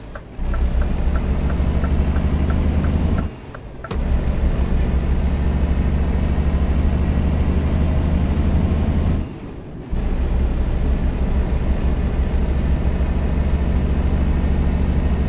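Scania S500 Vabis truck in Euro Truck Simulator 2 with its retarder braking, a loud steady low drone with a faint whine above, cutting out briefly twice before resuming.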